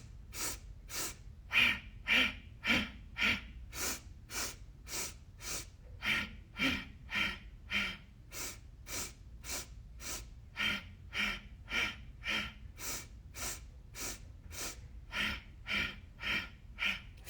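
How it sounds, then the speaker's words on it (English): Ujjayi breathing, a steady run of forceful nasal exhales, each like blowing out a birthday candle through the nose, repeating in an even rhythm of about two per second, close and clear with no talk. "I want to hear that exhale coming out, Ujjayi breath, like you are blowing out a birthday candle with your nose."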